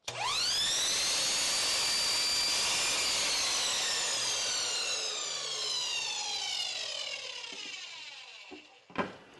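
A loud, continuous high-pitched whine of a power saw cutting through wood, slowly winding down at the end with a knock.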